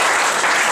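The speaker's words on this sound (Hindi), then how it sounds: "जोरदार ताली आपसे।" Loud applause from an audience at a Hindi political gathering, a dense continuous wash of clapping throughout the brief moment.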